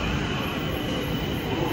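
Steady rumbling roar of a subway train in Japan running on the tracks, loud and continuous with a faint metallic squeal, no voices.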